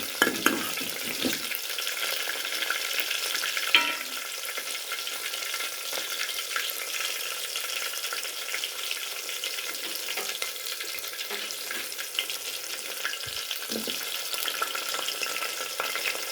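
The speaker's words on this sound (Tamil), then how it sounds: "லேசாக வதங்கணும் இது கொஞ்சம் வதங்கவும்" Eggplant curry ingredients sautéing in oil in a pan, a steady soft frying hiss running the whole time with a few faint stirring clinks, close and moderately quiet.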